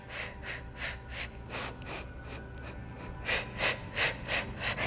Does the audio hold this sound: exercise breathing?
yes